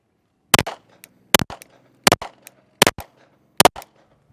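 Five sharp pistol shots fired one by one at an even pace during a shooting stance drill, each a loud close crack with a short ringing tail, and no talking between them.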